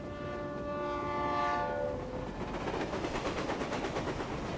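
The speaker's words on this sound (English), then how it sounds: "And why is the stupid train never on time?" A train in the video game Reverse: 1999 sounds a long horn blast over rolling rail noise, then steady clickety-clack of the wagons continues, moderately quiet with no talk.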